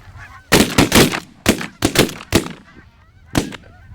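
Shotgun blasts ring out during a bird hunt: about eight sharp, loud reports in quick, irregular bursts, with goose-like honking calls sounding faintly in the gaps between them.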